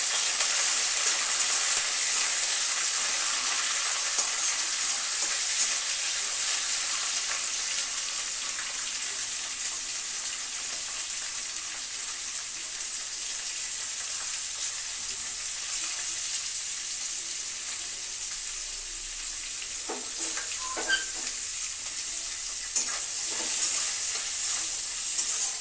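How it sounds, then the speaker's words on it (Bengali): Soaked chickpeas and dried red chillies frying in a pan while cooking a radish dish, a steady close sizzle and hiss throughout with occasional stirring scrapes and clinks near the end. "আর আগের দিনের রাতে ভিজিয়ে রাখা কিছু ছোলা, আর দুটো শুকনো লঙ্কা। এটাকে আমি খুব ভালো করে ভেজে নেব।"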